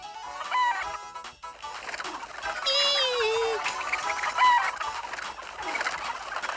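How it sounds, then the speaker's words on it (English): Chickens in the video game Breath of Fire 3 cluck and squawk in a busy flock, with a rising crow-like call in the middle, all fairly loud and continuous. "The chickens, they're escaping!"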